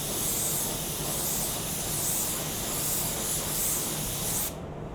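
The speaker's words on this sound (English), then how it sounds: "we're gonna spray vertical." Spray gun spraying paint vertically across an automotive panel, a steady loud hiss held for several seconds before stopping abruptly near the end.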